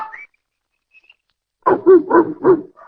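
A dog in a 1944 radio comedy about a dog catcher barks in a quick run of four loud, close yaps after a brief silence.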